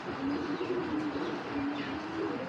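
A green-necked fancy pigeon coos close by in a steady stream of low, rolling coos lasting the whole moment, with no talk over it.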